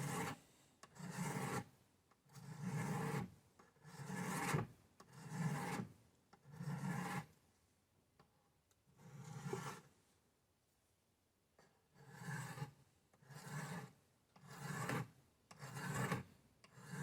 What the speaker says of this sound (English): Very, very easy knife to sharpen.